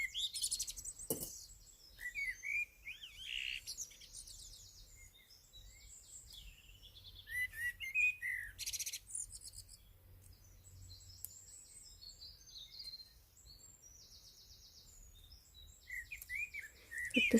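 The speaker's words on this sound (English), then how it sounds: "the birds are singing" Small birds sing outdoors in bright, repeated chirps and twittering phrases, coming in intermittent bursts with quiet gaps over steady low background hum; no talking.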